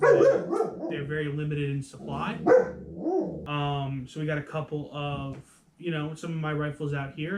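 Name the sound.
dog barking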